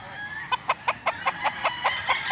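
A Boston bloodline gamecock rooster gives a rapid series of about ten short, evenly spaced clucks, fairly close and clear.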